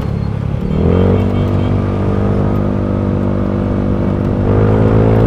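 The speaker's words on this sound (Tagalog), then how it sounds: "So ayan, narinig niyo yung tunog ng motor niya." Motorcycle engine idling and running up close with a steady, throaty exhaust drone, rising slightly in revs near the end.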